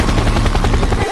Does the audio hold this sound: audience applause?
no